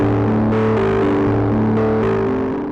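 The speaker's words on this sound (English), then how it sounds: "In contrast to the filter drive, which stayed mellow and didn't introduce any high-frequency harshness, the overdrive gets a little messy." A Sequential Take 5 polysynth plays sustained chords through post-filter overdrive, sounding gritty and a little messy as the notes shift every half second or so, loud and alone.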